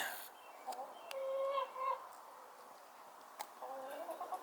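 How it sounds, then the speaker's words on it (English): Chickens cluck and squawk in short bursts nearby, with a longer call in the middle and scattered clicks and rustles in between. "All right, we got chickens out here."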